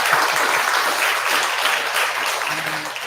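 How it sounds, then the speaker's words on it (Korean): Steady audience applause during a Sunday family dharma service at a Buddhist temple, a dense even wash of clapping that holds for the full few seconds without talk. "다시 한번 박수 한번 부탁드립니다."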